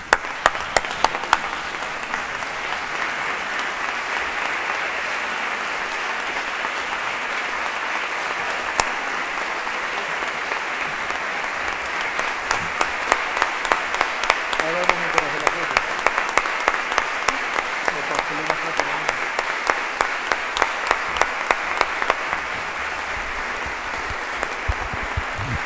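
Sustained standing ovation from a large seated audience at an Andalusian education conference, dense continuous applause lasting throughout with a few brief voices and cheers rising midway, steady and fairly loud before tapering near the end.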